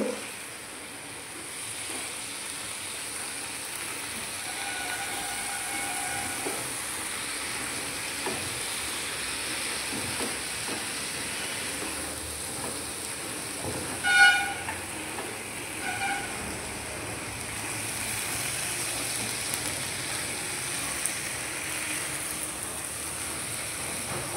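Spinach and prawn curry sizzling in a pan as it is stirred, a steady soft frying hiss with occasional scraping clinks of the spoon, fairly quiet and continuous, no talking.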